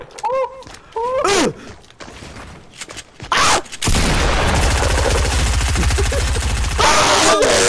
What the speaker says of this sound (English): That's SMG right there.